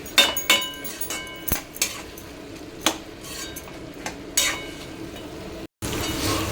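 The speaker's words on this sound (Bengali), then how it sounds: "এবার এটাকে আবার একটুখানি ভালো মতো নাড়িয়ে নেব" Cabbage curry with turmeric and coriander powder being stirred in a cooking pan, a spoon giving sharp, irregular clinks and scrapes against the metal, close and fairly loud, with a soft sizzle between strikes.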